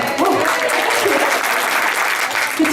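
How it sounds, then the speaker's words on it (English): A room full of people applauding a speaker, dense sustained clapping throughout, loud and close with a faint voice beneath. "It's funny what we clap for"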